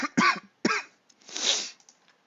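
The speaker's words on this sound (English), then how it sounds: "little bit of a cough" A person coughs twice in quick succession, then clears a dry throat with a longer rasping breath, close and moderately loud in an otherwise quiet room.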